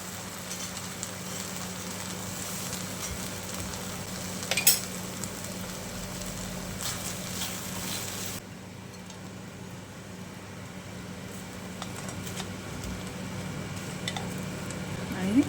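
Red chili sauce, other sauces and vinegar stirred into frying cauliflower manchurian in a pan, a steady soft sizzle with spoon scrapes and a few sharp metallic clinks, close and continuous under a low hum.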